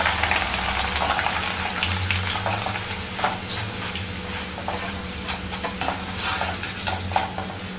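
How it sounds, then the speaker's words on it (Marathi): Maize poha fries in hot oil, a steady dense sizzle with occasional crackles and stirring scrapes, close and continuous with no voices. "आता आपण मक्याचं पोहे तळून घेऊया आधी."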